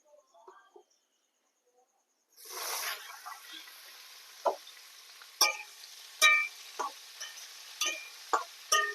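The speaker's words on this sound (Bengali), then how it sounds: "এইবার হুঁপোটা ভেজে নেবো।" Fish dropped into a pan of hot oil after a quiet start sets off a sudden sizzle, followed by irregular sharp crackles and spits. The frying is close and moderately loud.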